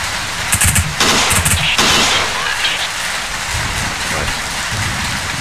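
Heavy gunfire in the tactical shooter game Ghost Recon, loud rattling bursts that rise and fall over a dense, steady wash of noise, with no voices.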